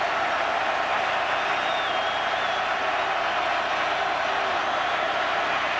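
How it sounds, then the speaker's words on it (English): A football stadium crowd roars steadily on third down during a 2004 Miami vs North Carolina State college game, a dense, sustained wall of cheering and noise with no breaks. "Crowd is up and making a lot of noise."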